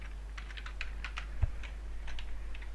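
Computer keyboard typing in quick, irregular clusters of soft key clicks, close by, over a steady low hum, with one louder thump midway.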